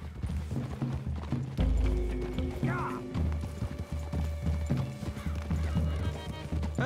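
Horse hooves clop in an uneven trot in Red Dead Redemption 2 alongside a whinny, with some mechanical clanks and background game sounds.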